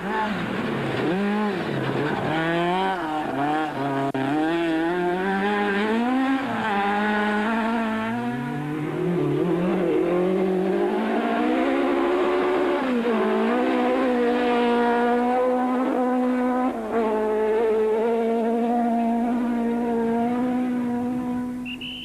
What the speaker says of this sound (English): Adrian Karth and Des Defortier were quickly embroiled in a tussle with veterans Tony Ball and Alan Bissett, both in similar VW Golfs